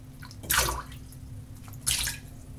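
A soaked shaving brush is shaken twice, each flick throwing off a short, close burst of splattering water over a faint background hum.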